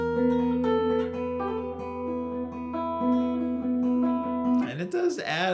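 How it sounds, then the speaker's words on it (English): A short guitar phrase from The Last of Us theme containing a hammer-on, with a few ringing plucked notes at moderate level, cut off by a brief burst of noise at the end. "he does a little cute hammer-on thing."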